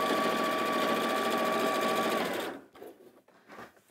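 An Elna 780+ sewing machine stitching fabric into a corner, running with a steady rapid mechanical whir that stops abruptly, followed by a few quiet handling clicks.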